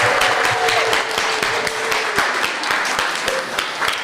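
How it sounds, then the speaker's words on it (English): Preschool children and staff clap in a room after a group song, a steady, close mix of many hands with scattered sharper individual claps, with faint voices underneath throughout. "Give yourselves a big clap,"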